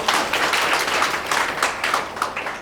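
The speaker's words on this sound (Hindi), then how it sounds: "एक बारी जोरदार तालियां बजा दीजिएगा इनके लिए भी" Audience applause at a stage event honouring a speaker, many hands clapping in a steady dense patter at moderate loudness throughout, with no one talking.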